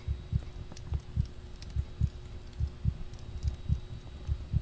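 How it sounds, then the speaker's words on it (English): Rhythmic heartbeat in The Backrooms: The Found game, steady low thumps repeating about twice a second throughout, moderately loud against a quiet ambient hum with no talking. "There's a heart beating."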